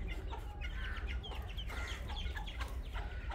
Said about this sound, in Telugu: కోడిపిల్లలు పరిగెడుతున్నాయి, చూసారు?